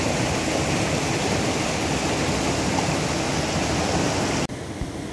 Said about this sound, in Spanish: aquí andamos recorriendo nuevamente el río de Tehuetlán